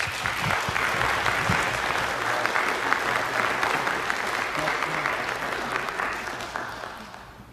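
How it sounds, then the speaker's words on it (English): A city council meeting audience applauds new citizens with a steady round of clapping that runs throughout, evenly dense at first, then easing slightly near the end. "Let's give these citizens a big round of applause."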